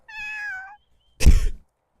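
A stray cat in a video game gives one clear, drawn-out meow, then after a short pause a second, harsher and louder yowl, both close and isolated.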